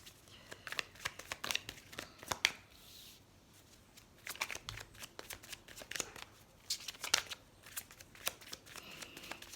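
Tarot cards are shuffled by hand in repeated quick riffling bursts with short pauses between them, soft and close, with no clear talking.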